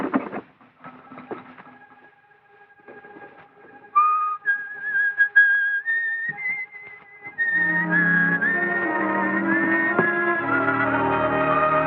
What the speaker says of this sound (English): don't forget to whistle Loch Lomond